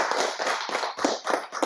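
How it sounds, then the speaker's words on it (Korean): Audience applause at an academic presentation in a seminar hall, a short burst of dense hand clapping that swells and dips in uneven waves for under two seconds. "박수 부탁드립니다."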